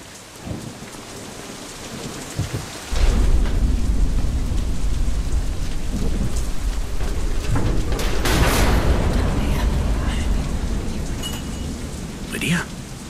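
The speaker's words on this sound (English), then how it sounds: "Storm." A thunderstorm in the video game Deadlight: heavy rain in Seattle sets in with a loud, rolling thunder rumble that starts suddenly and persists, with a sharp crack near the end.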